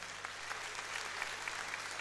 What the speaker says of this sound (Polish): Prosimy. Wielkie brawa.